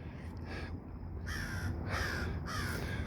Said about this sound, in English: A crow is blocking my road.